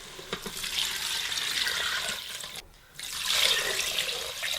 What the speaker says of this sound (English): Now we're going to add all of our liquid.